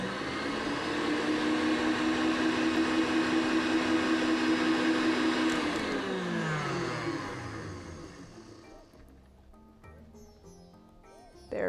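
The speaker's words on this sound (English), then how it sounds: "our egg whites have been beaten into stiff peaks" Electric hand mixer beating egg whites into stiff peaks for a soufflé, a loud steady whirring motor that holds for several seconds, then winds down and stops, leaving quiet kitchen shuffling.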